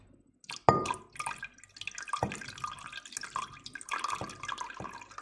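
Water is poured into a glass tank, giving a series of splashing drips and trickles that start with a sharp splash, then continue in uneven bursts, close and fairly quiet.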